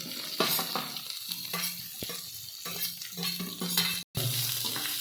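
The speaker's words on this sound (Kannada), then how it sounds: "ಈಗ ಹೆಚ್ಕೊಂಡಿರೋಂಥ ಈರುಳ್ಳಿ ಹಾಕೇನ್ರಿ." Chopped onions hit a hot pan for jeera rice, frying with a steady sizzle while a spoon stirs and scrapes in repeated strokes; a brief dropout interrupts near the end.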